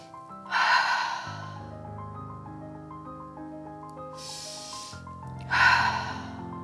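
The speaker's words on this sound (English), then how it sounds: "Just by taking those couple of breaths, you feel a lot lighter." Deep breaths during a meditative breathing exercise: two long, audible inhale-exhale rushes a few seconds apart, close and clear over soft ambient background music.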